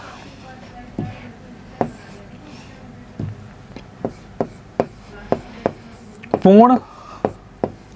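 Marker or chalk taps and strokes on a board while maths set problems are solved. Sharp, evenly spaced knocks come one after another, fairly close, and a voice briefly speaks between them.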